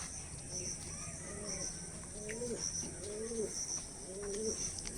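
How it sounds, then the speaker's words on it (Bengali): A female Kalduma pigeon coos inside a loft, giving several soft, rolling calls at an even pace over a low background hum, fairly close and moderately quiet. "এই হচ্ছে মাদি পায়রাটা।"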